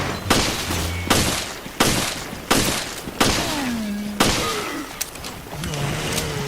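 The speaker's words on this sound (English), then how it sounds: "let's test the government handgun on an ooze" Government handgun firing at an ooze in Resident Evil: Revelations, six sharp, loud shots spaced roughly a second apart, each followed by a brief ringing tail and creature noises between.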